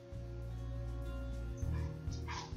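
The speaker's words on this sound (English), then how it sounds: "I apologize for my baby dog" A small young pet dog whimpers faintly indoors over a steady low hum, breaking into a few higher yips near the end.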